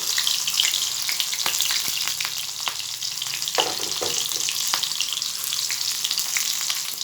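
Fish head fritters made from moka fish heads frying in oil, a dense continuous sizzle close by, with scattered sharp pops and a spatter of louder crackling midway as pieces are turned; no one speaks.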